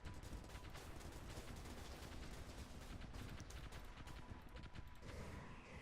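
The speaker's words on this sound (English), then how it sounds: "Those are phasers." Rapid phaser fire rattles continuously in a Stardrive space battle, a dense, steady barrage of overlapping energy-weapon bursts filling the whole stretch with no speech.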